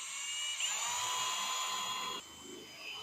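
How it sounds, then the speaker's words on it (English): A high-pitched power drill whines steadily for about two seconds, drilling through the fender of a 1964 Ford Falcon, then cuts out, leaving a quieter mechanical hum. "so now I can drill"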